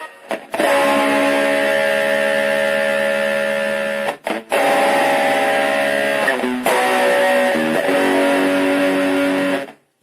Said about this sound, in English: You can maybe hear that there's like a fuzzy,